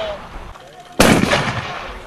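A single loud crack from a real rifle, sharp and close, following a quieter stretch with faint tones, then a broad decaying rumble.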